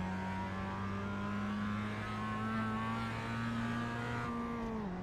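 A Mazda MX-5 race car engine holds full throttle in iRacing at Lime Rock Park, droning at a steady high pitch that climbs gradually, then drops sharply near the end as the gears shift, heard alone without talk.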